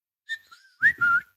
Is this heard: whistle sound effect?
yes